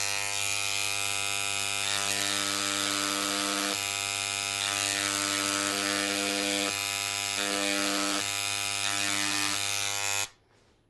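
A Dremel engraver cutting into stone, a steady high-pitched electric whine with a pulsing tone as the bit bears down and eases off in several strokes, then it cuts out abruptly near the end.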